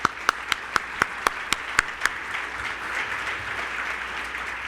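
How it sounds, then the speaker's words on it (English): Sponsors of the 2019 North Carolina Rural Assembly receive a round of sparse claps, about nine distinct sharp claps in the first two seconds, then a faint diffuse patter of applause fading into room noise. "Please join me in a round of applause for these great sponsors."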